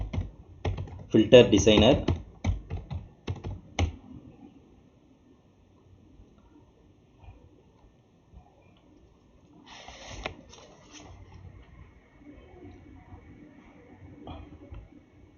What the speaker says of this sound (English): In command window, you type the command